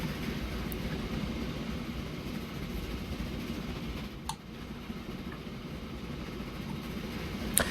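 A train runs in the Train Fever video game, a steady low rolling rumble of wheels and carriages at constant volume, with a few faint clicks over it.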